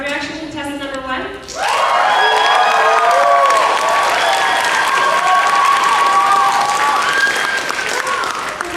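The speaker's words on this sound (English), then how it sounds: "crowd reaction to test number 1" A convention crowd at an anime dating game panel bursts into loud applause and cheering after a short spoken cue, with sustained clapping, whoops and shouts filling the room for several seconds.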